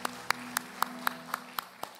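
A church congregation at a worship service claps in steady unison, sharp even claps arriving about four times a second at moderate distance with no talk over them.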